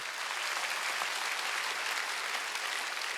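Congregation at a Sunday church service bursts into steady, dense applause, a continuous wash of many hands clapping at moderate distance throughout, with no speech over it.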